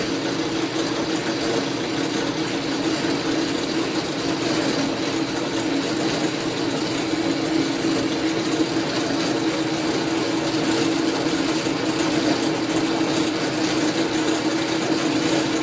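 A Sheldon lathe with a rebuilt quick change gearbox runs with the cross feed engaged, a steady mechanical hum and whir of gears turning without any cutting, constant and close with no break.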